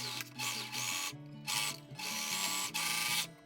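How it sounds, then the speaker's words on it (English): A serger stitches a dress seam in loud, whirring mechanical bursts, several runs starting and stopping with short pauses between them, close up and with no talking. "I'm gonna go ahead and serge this"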